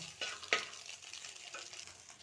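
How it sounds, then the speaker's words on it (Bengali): An egg fries in oil in a pan, giving a steady crackling sizzle with a few sharper pops and spatters, close and fairly loud with no talking. "এখানে এবার একটু তেল দিয়ে আমি ডিমটা ফ্রাই করে নেব"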